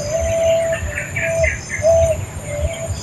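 Birds call in an outdoor setting, with a few drawn-out tonal whistles spaced across the clip and scattered chirps above them, all over steady low background rumble.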